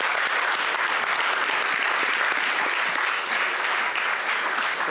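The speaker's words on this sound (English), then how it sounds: "Can we give a big round of applause to our panelists?" Steady, dense clapping from a large conference audience applauding a panel fills the whole stretch without pause, loud and close, with no voices standing out.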